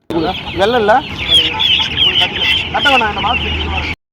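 Chickens and guinea fowl at a poultry market, loud clucking and squawking calls repeating over busy crowd noise, with voices talking nearby throughout.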